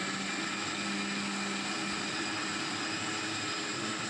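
A mixer grinder whirs steadily, blending tomatoes with green chillies and cumin in a jar for chole masala, a continuous loud motor drone with no break and no talking.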